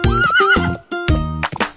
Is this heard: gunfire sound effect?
no